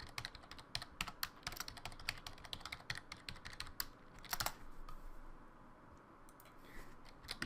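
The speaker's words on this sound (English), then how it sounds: "Must have just typed something." Keys clatter in quick, uneven bursts as someone types login details on a computer keyboard, close and clear, with a brief pause and a few scattered keystrokes toward the end.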